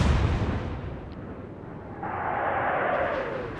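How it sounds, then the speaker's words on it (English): A ship's magazine detonates in the naval video game Atlantic Fleet, a heavy booming blast that rolls into a long roaring burn of fire and debris. "look, that's a magazine explosion"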